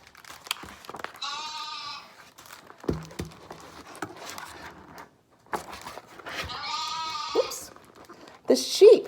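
Sheep bleat twice, each a wavering, nasal cry, with a third brief bleat at the end. A voice narrates between and around the calls, and scattered light tapping sounds are also present.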